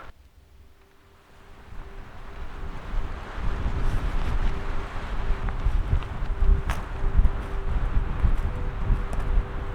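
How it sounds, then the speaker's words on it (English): Strong gusting wind buffets the microphone outdoors on the Arizona Trail, a roaring, rumbling rush that swells louder after the first couple of seconds and keeps surging with no one talking. "There is so much wind."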